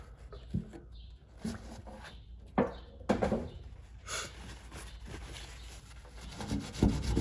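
A towel dampened with 3M general purpose adhesive remover is rubbed over a badge on a 2023 Chevrolet Silverado pickup, giving soft, close, irregular scrubbing strokes with a few sharper scuffs. The sound is fairly quiet and there is no talk.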